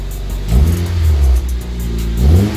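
Honda CR-V turbo engine revving through a custom exhaust, two deep rising revs with a rumbling low tone, close and loud, settling briefly between them.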